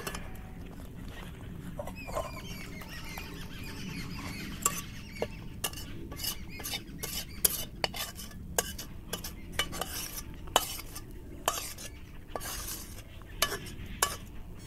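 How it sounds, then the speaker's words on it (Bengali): Boiled masoor dal stirred and mashed with a ladle, soft wet squelching under a quiet bubbling sizzle, with frequent small clicks of the ladle against the pot. "হাতা দিয়ে এইভাবে ডালটাকে আমি কিছুটা ঘেঁটে নেব"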